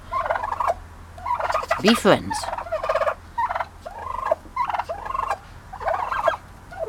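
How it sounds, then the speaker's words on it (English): A four-month-old male turkey gobbles repeatedly in rippling bursts, close by, with a person speaking briefly between the calls. "It's a 4-month-old male turkey hen"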